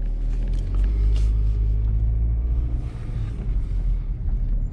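A GMC Terrain SUV drives along, heard from inside the cabin as a loud, steady low rumble of engine and road noise that eases slightly toward the end, with no one talking.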